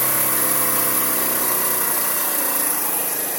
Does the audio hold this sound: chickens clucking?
no